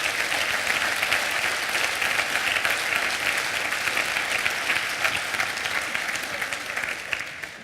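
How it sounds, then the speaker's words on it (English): Conference audience at a DjangoCon talk breaks into sustained applause, a dense, even roar of many hands clapping that fades slightly toward the end. "I'd like you to clap every single person for contributing."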